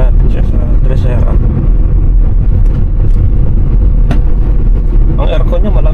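A Hyundai Eon slows under engine braking, its engine producing a loud, steady low drone inside the cabin, with road rumble and occasional faint voices on top.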